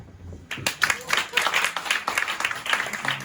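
A live audience at a stand-up comedy show breaks into applause after a brief quiet, with dense, lively clapping that stays strong and continuous.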